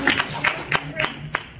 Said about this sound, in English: let's give one more round of applause to Villainous Cosplays